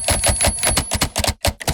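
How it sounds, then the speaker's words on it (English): Sampled typewriter keystrokes from the King Key iPad instrument plugin play in a rapid, close, loud run of crisp clacks with a few short gaps, with no voices. "Now, you have samples of a typewriter"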